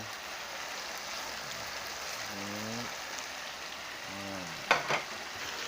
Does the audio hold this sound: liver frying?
yes